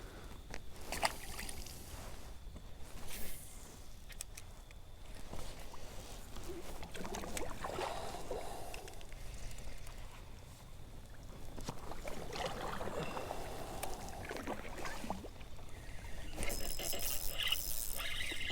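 A kayak is paddled fairly fast along a Tennessee river with rock ledges, and soft, continuous water swishes and splashes from the strokes carry on, faint and close, with no talking.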